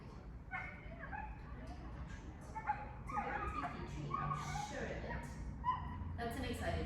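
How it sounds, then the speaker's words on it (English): An excited dog whimpers and yips in short, high, rapid bursts close by, while a person talks quietly over the noise. "That's an excited doggy, I promise"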